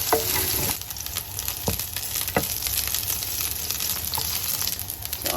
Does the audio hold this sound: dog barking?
no